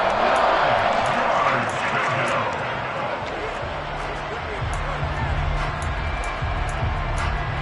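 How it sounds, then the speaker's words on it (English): A football stadium crowd roars steadily through a tense third-down moment in a Commanders vs Lions game, a broad sustained wash of cheering and noise at constant loudness, with a low hum underneath. "The crowd getting into it as we come up on a big 3rd down"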